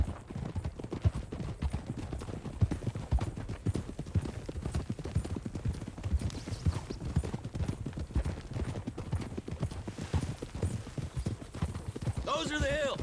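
Horses' hooves clip-clop steadily on a road in Red Dead Redemption 2 as a group rides toward the hills, a continuous close rhythmic clatter under frequent male speech, with a brief whinny near the end.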